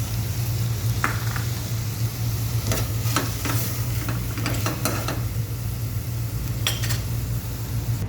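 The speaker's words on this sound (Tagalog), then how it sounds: "Lagyan na natin ang kamatis." Tomatoes tipped into a hot pan on a stovetop and stirred, giving a steady loud sizzle with scattered scraping stir strokes over a constant low hum, no voices.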